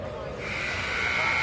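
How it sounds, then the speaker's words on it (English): A sustained electronic buzzer sounds at an under-15 tier 2 ice hockey game in an arena, rising out of the crowd noise and holding as one steady tone to the end. "Buzzer goes, and that's the end of this one."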